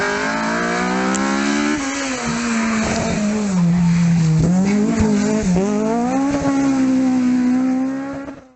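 A loud Honda VTEC car engine revs hard, its pitch climbing, dipping and climbing again in a sustained, high-revving howl, with no talking.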